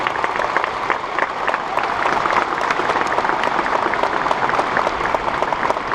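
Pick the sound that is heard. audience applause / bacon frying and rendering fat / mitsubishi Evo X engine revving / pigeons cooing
audience applause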